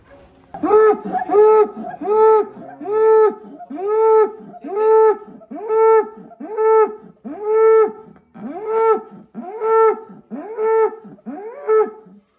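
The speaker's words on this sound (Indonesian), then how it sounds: "Oke, sore ini kita lagi akan muat sapi raksasa." Giant cattle being loaded onto a truck at a farm pen give a long series of loud, close moos, about a dozen calls repeating in a steady rhythm with short pauses between them.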